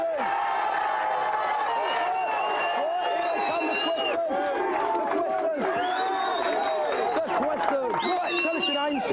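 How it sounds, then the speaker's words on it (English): A studio audience at a video game show cheers and whoops loudly and continuously, with excited shouts and high voices layered over steady crowd noise. "give them a big cheer"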